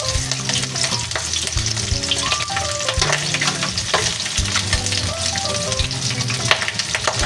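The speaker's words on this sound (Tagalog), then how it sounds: "Piprito lang po natin yung ating pork. Hanggang sa maging golden brown." Pork frying in a little oil until golden brown, a loud, steady sizzle with crackling spatter and occasional clinks, continuous throughout with no voices.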